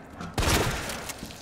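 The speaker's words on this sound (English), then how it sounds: "Let's try out the shotgun." Shotgun blast in the video game Resident Evil 2, a single heavy boom with a sharp broadband attack and a rumbling tail that fades over about a second, heard alone without talk.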